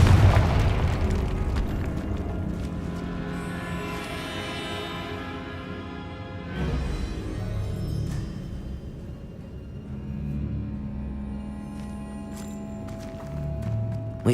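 A Confringo spell blast in the video game Hogwarts Legacy sets off a loud booming explosion at the start, which rolls into sustained rumbling game sound with a second swell of impact noise midway and another near the end.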